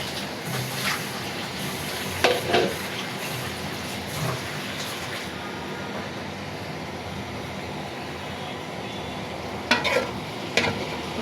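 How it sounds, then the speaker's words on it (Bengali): A spatula stirs rohu fish curry in a frying pan over a constant low sizzle, with a few clear scraping and knocking strokes at intervals. No one speaks. "নাড়াচাড়া করে দিব।"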